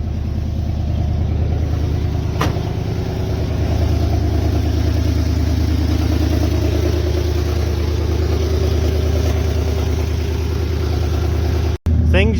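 A car engine idles steadily just after starting, warming up with a constant low rumble throughout, and a brief click near the end.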